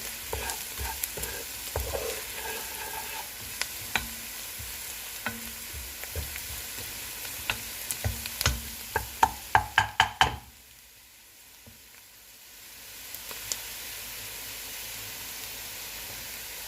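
Onions and curry powder fry in oil in a pan for a Kai Si Ming mince dish, with a steady low sizzle, stirring scrapes and a run of sharp utensil knocks, then the frying drops to near silence.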